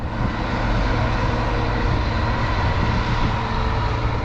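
A Bizon combine harvester drives along a national road, its engine giving a loud, steady, droning roar with a low rumble and no breaks.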